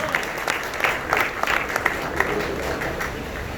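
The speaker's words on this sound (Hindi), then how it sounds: "भरपूर तालियां।" A crowd at a welcome event for Covid-19 volunteers in Malegaon, Maharashtra claps for a food-distribution helper; the applause is moderate and somewhat sparse, with distinct hand claps over a murmuring background crowd.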